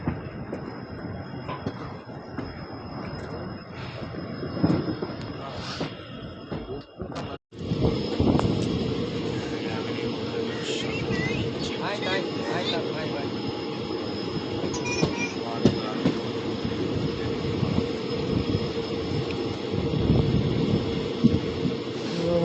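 Basava Express sleeper coach rolling along the line, a steady loud rumble of wheels and carriage with a brief dropout partway, faint squeals and clatter over the continuous running noise.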